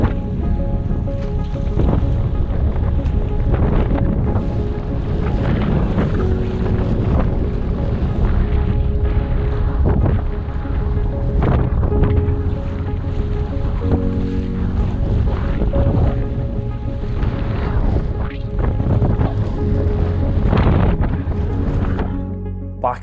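Strong wind buffets a sea kayak paddling into a headwind off Flamborough Head, a loud continuous roar with gusty surges, sloshing water and low rumbles throughout, with no talk.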